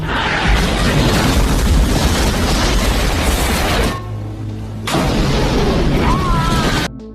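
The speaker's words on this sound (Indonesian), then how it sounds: "kapal selam geng Thomas meledak dan menewaskan semua anak buah Thomas" A submarine blows up in an action film with a loud, sustained blast and roaring debris. The roar breaks off briefly, then resumes at full force before cutting out.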